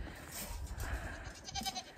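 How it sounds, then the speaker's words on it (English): Goats on a cold North Idaho farm bleat faintly and indistinctly amid steady background noise, a few calls rising briefly near the end. "You naughty little goats."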